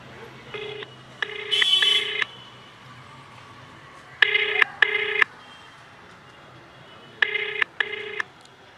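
On an outgoing phone call, the ringback tone repeats in paired bursts with short gaps between them, heard through a phone line against a faint background hum.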